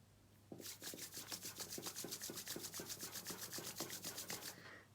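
Hands rubbing briskly together in a quiet room, a close, even rhythm of soft dry swishes, about twenty strokes in a row.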